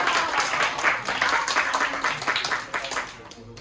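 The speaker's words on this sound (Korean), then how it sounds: "박수 주세요" Audience applause and clapping at a high school project presentation event, a dense, steady burst of many hands that fades out toward the end.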